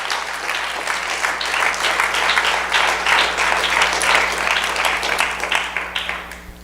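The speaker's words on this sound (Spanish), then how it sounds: "Fuerte el aplauso a nuestro Salvador." A church congregation breaks into sustained applause during a sermon, many hands clapping steadily and loudly for several seconds before easing off slightly.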